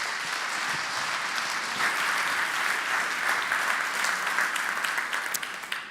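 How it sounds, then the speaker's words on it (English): An audience at a city-themed conference event claps for an arriving guest speaker, a dense, sustained burst of applause from a sizable crowd that holds steady and begins to thin out at the end. "Ladies and gentlemen, may I have a very warm applause, Robert Hammond."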